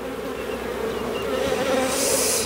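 Honey bees swarming in an opened hive, a dense, steady buzzing drone close by that swells slightly louder toward the end, with no talk.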